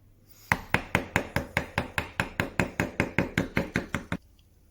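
Chisel-and-mallet hand carving of a letter A in timber, a rapid, even series of about sixteen sharp, close wooden knocks that stops abruptly.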